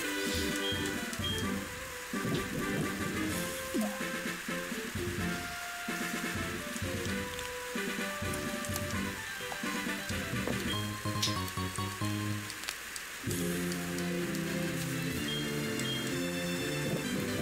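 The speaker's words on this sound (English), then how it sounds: "Rain? Why is it raining?" Steady rain falls in the Pokemon Soul Silver video game, a constant soft patter running beneath the game's melodic background music throughout.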